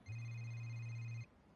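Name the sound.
telephone ringing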